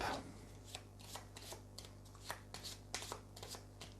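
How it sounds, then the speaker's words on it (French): Playing cards being handled in a Way of the Samurai card game, a run of crisp papery flicks and slides at close range, repeating irregularly over a few seconds with no talk. "On va piocher une carte."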